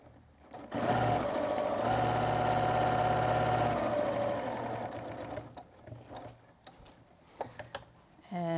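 A domestic sewing machine stitches a fabric face mask, whirring in a steady run for a few seconds, then slowing into short stop-start bursts while back tacking at the end of a seam, close and clear.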